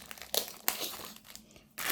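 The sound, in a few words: paper crinkling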